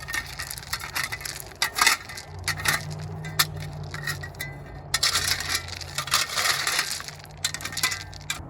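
Gravel pouring and crunching as a sub compact tractor dumps it onto a green pipe, a long rattling cascade of stones over a low engine hum, close and continuous.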